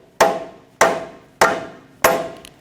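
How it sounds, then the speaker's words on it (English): Four evenly spaced, sharp knocks from a rubber mallet tapping a control arm ball joint into the steering knuckle of a 2007-2017 Jeep Patriot 2.4L, close and fairly loud, each blow decaying quickly, with no talk. "Take another rubber mallet and I'm just going to give it some taps."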